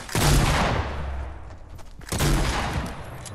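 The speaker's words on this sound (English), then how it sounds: "let's shoot him" Gunfire in the video game Fortnite: two loud bursts of shots, one at the start and a second about two seconds later, with a short lull between them and no talking.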